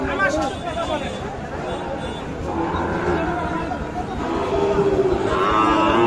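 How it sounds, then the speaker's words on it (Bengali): Sahiwal calves lowing amid the steady crowd babble of a busy cattle market, several moos rising over continuous chatter and background noise. "দেখছেন এই পাশে এগুলো কিন্তু সব শাহিওয়াল জাতের সার বাছু"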